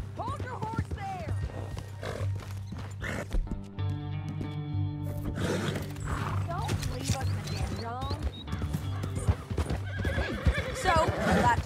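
Horses neighing and clip-clopping hooves in the western open-world game Red Dead Redemption 2, a loud whinny standing out over steady hoofbeats, a low engine-like drone and music, while someone speaks briefly.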